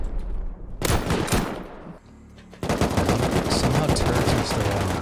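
Automatic turrets in the survival game Rust fire rapid bursts of gunfire. A sharp volley comes early, a brief lull follows, and then sustained, dense firing rings out loud and close.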